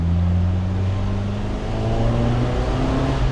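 Ford CVH engine in a Reliant Scimitar SS1 sports car, revving with a steady, loud low-pitched drone and engine hum throughout, close and alone without any talk.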